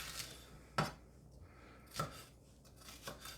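Knife chopping peppers on a cutting board for an air fryer shawarma, with a few sharp separate knocks spaced about a second apart over a quiet room.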